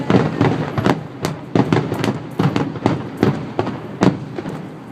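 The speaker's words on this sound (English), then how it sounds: "This is a different fireworks display from last night." Magic Kingdom Holiday Wishes fireworks display watched from a resort room at the Contemporary, a steady run of sharp bangs and crackling bursts, several per second, loud and echoing over a faint background hum.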